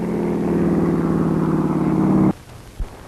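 A two-engine standard plane roars steadily with a droning, buzzing engine hum, then cuts off abruptly, leaving a faint low thump after.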